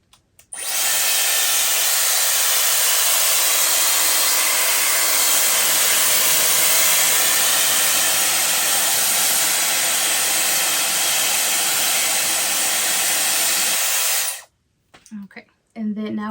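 A Dyson Airwrap hair styler blows air in a loud, steady whoosh that runs for about fourteen seconds, then cuts off abruptly, leaving a few faint handling noises.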